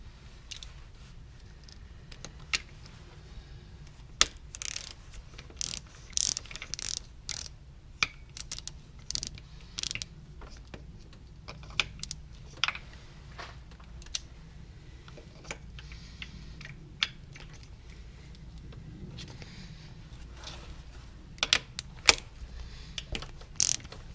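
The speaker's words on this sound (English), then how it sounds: "we're going to go get our 19mm socket and our ratchet, and we're going to pull this dude out real quick" A ratchet with a 19mm socket working loose a coolant temperature sensor on a Mazda Protege engine, heard as faint, irregular clicking pawl ticks in short runs over a low background hum, close but quiet, with no speech.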